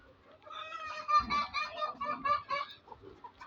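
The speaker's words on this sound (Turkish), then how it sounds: "Sonra burada tavuklar var." Chickens on a farm squawk and cluck close by in a busy, overlapping run of calls that rises and falls.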